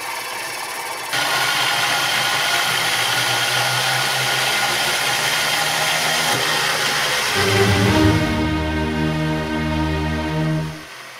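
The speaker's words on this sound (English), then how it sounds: "With chrome brushes, the engine ran a little longer" A standard brushed DC motor fitted with chrome brushes runs steadily at high current, a loud continuous whine with rattling vibration that shifts pitch partway through and then cuts off near the end.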